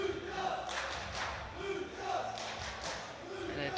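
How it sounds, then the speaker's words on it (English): Crowd at a European sub-junior and junior classic powerlifting championship chanting a lifter's name in rhythmic swelling waves, moderately loud and reverberant, with a commentator talking over it. "And a chant started in the crowd for Lucas."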